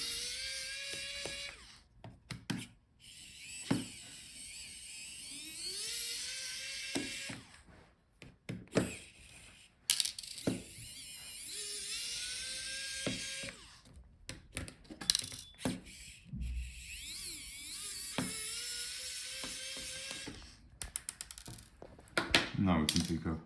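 Screws are removed from the speakers of an Asus Q547F laptop during a teardown, with a small electric screwdriver whining in repeated short bursts alongside clicks and tiny metallic rattles of the parts, close and fairly quiet.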